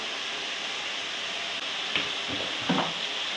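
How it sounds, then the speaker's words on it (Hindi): Masala spices for palak chicken frying in a pan, a soft continuous sizzle with a few brief stirring scrapes near the end, faint and close, no talk. "मिक्स कर लूँगी। तकरीबन 5 मिनट में मसाला भून लूँगी।"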